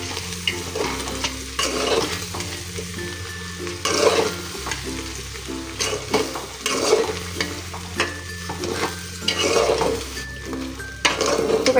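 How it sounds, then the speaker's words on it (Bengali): Rice with spices is stirred and fried in a pot for khichuri: a continuous loud sizzle broken by repeated scraping strokes of a spoon against the pot, arriving in a steady rhythm with metallic clinks. "এখন এটাকে ভালো করে কষাই নিব।"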